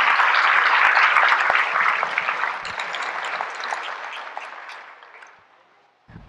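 Audience applause fills a crowded, standing-room-only mosque, a dense sustained clatter of many hands that is loud at first, then thins and fades out over several seconds.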